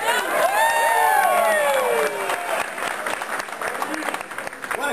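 A large crowd at Giants FanFest bursts into applause and cheering with whoops and shouts, loud at first and then easing into scattered clapping over a murmur of voices.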